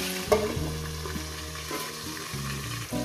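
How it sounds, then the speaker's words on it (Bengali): A katla fish head fries in hot oil in a pan, a steady close sizzle with scraping stirs and a few clinks, accompanied by a low hum running throughout. "মাছের মাথাটা আমার ভাজা হয়ে গেছে"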